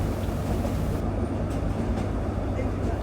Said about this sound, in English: continues to rumble over its last mile of track to its truncated terminus on the water's edge at Looe